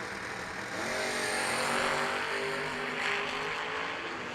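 Two drag racing cars launch hard off the line at a drag strip during the Million Dollar Race, a loud, sustained engine roar swelling as they accelerate away, with no talk.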